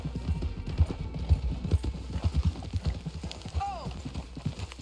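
Horse hooves clip-clop in a steady trotting rhythm in the Red Dead Redemption 2 game, close and distinct, with a brief whinny near the end.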